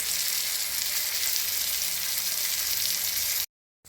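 Fish pieces frying in a little oil, a dense, steady sizzle up close that runs evenly for several seconds before cutting off abruptly near the end.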